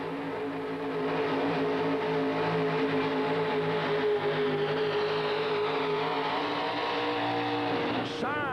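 A pulling tractor named Midnight Raider roars through a tractor pull run in the USA, its engine a loud sustained droning howl that stays steady, with a rising pitch sweep near the end, while a commentator talks over it.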